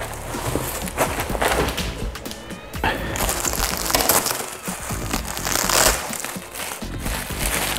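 Crinkly, crushing packaging being unwrapped from around a replacement Bitmain S19 hashboard, with close, continuous rustling and crumpling bursts and occasional soft thumps throughout.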